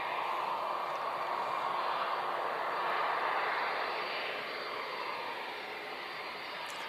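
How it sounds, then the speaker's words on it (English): An Airbus airliner descends to land at Christchurch Airport on a windy day, its broad, steady engine roar heard from a distance, swelling slightly and then easing. "Daniel, Dan, the next Airbus is right now, mate. It's just coming down as we speak"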